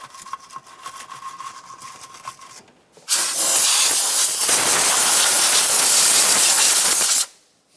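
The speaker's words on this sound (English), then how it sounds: "I'll use a small wire brush for this and some compressed air." Compressed air blasts in a loud, close, steady hiss for about four seconds while cleaning around the engine of a 1994-2002 Dodge Ram 2500, after quieter scraping and brushing sounds.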